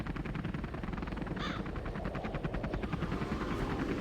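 A Comanche helicopter in the video game Command & Conquer Generals gives a steady, loud rotor chop with a rapid beating rhythm, with gunfire-like bursts in the mix.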